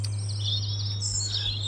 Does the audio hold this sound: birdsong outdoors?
yes